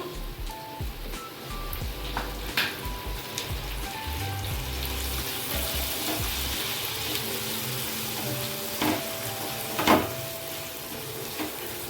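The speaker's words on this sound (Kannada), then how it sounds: "ಈರುಳ್ಳಿ ಒಂದು ಸ್ವಲ್ಪ ಚೆನ್ನಾಗಿ ಫ್ರೈ ಆಗಲಿ. ಟೊಮೆಟೊ ಸೇರಿಸ್ಕೊಳ್ತಾ ಇದ್ದೀನಿ." Onions and tomatoes fry for a chicken curry, a steady close sizzle running through the whole stretch with occasional louder pops and spatters and a few scraping stirs, no talk over it.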